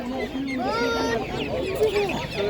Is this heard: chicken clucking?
yes